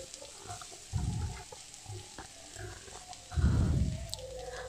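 Fried onion with tomato, turmeric, chili powder and mashed boiled shrimp gets stirred in a hot pan, two loud bursts of scraping and sizzling rising over a continuous background fry, with no talking.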